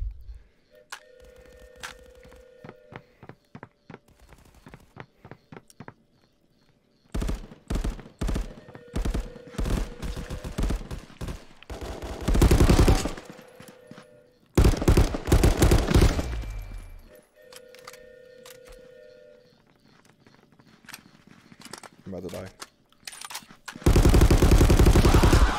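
Gunfire in VR Call of Duty (Contractors VR), loud bursts of rapid automatic fire and single shots in clusters, broken by quieter gaps with mechanical clicks.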